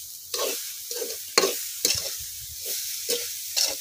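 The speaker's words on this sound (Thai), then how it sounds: "คั่วต่อไปเรื่อยๆค่ะ" Sweet khanom thian filling with unbleached sugar is stir-fried in a pan, with repeated scraping stirs in a steady rhythm over a soft sizzle, close and clear.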